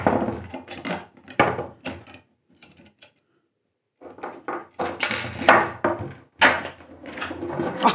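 Parts of an electric race car being screwed back in, heard as bursts of knocking, clattering and scraping handling noise with a short quiet gap in the middle.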